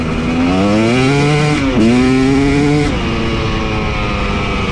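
Motorcycle fitted with a TSP cylinder head and tune, pulling hard through third gear: a loud, close engine note that climbs steadily, dips briefly at a shift, then climbs again, with no talking.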